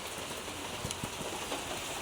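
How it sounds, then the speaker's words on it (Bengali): Rain begins to fall, making a dense, even hiss of drops on surfaces that stays steady throughout, with faint low rumbling beneath. "বৃষ্টি নামছে দেখ"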